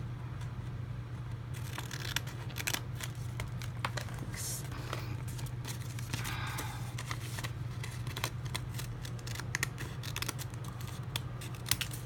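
Scissors snip through art journal pages in a string of sharp, close clicks and crisp cuts with faint rustling between them.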